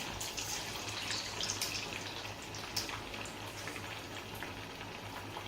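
Sabudana vadas frying in hot oil, a steady, dense crackling sizzle with faint pops throughout and no talking.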